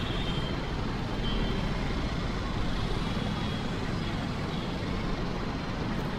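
Dense street traffic fills a busy road in Salem's jewellery-shop district on the eve of Diwali, a steady, loud wash of engines and road roar with no break and no distinct horn or voice standing out.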